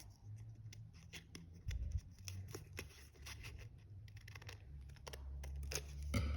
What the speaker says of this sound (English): then I'm just going to cut a really small square